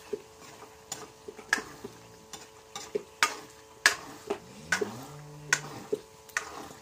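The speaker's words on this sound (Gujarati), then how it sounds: "એને પણ આ રીતે મિક્સ કરતો રહેવાનો." Turmeric and pea sabzi stirred in a pan, a close series of irregular metallic scrapes and clinks from the spoon against the pan, with a soft sizzle underneath and no talking.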